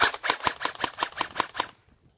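An HPA airsoft pistol fires nine sharp, evenly spaced shots in a quick steady rhythm, loud and close, then goes silent.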